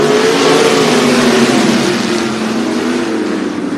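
Sprint cars in a limited sprint class feature race roar off at the green flag on a dirt oval, a loud, continuous multi-engine drone that swells and sustains as the pack accelerates, with no talking.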